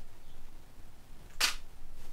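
A camera shutter held open in bulb mode for a firework exposure fires once as a single sharp, close click-clack about two-thirds of the way through, set against quiet room hiss.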